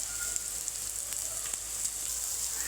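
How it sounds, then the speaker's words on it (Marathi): Cluster beans with green chillies, turmeric and coriander powder sauté in a pan, giving off a continuous, even sizzle with faint stirring clicks and no talking. "त्याला छान प्रकारे परतून घेऊ।"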